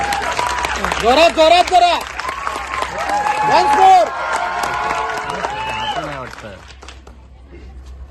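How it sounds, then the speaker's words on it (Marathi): A cinema audience claps and cheers for writer-director Hemant Dhome at a free film screening, with loud crowd applause and whoops running under an excited announcer's voice before it fades out. "लेखक आणि दिग्दर्शक हेमंत ढोमे यांच्यासाठी टाळ्या होऊन जाऊ द्या"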